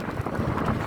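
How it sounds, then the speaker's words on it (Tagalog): Light drizzle and strong gusting wind at a seaside park on the Tsim Sha Tsui waterfront in Hong Kong, heard as a steady close wash of rain and wind buffeting with no talk. "lumalakas na yung ambon"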